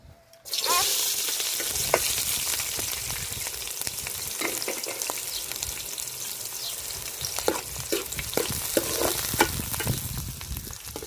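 Sliced onions and green chillies hit hot oil in a pan for a Telugu curry and sizzle loudly at once, the steady frying broken now and then by the clatter of stirring.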